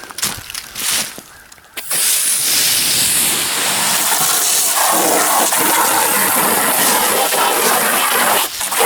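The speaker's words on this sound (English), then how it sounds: "Rinse out our tub here." Water running steadily from a tap while a tub is rinsed out after making deer sausage, a continuous rushing hiss that starts after a brief quieter moment and holds loud and close to the end.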